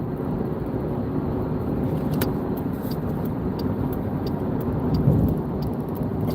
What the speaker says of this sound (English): I'm sorry, I'm driving, I had to change lanes